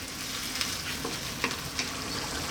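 Tomato sauce for a chicken, mushroom and basil pasta simmers in a pan over medium heat, giving a steady close-up sizzle with occasional stirring scrapes and soft pops throughout.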